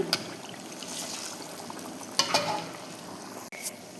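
Banana bondas fry in hot oil, giving a steady soft sizzle and bubbling with occasional brief clinks and stirring noises, close and fairly quiet, with no one speaking.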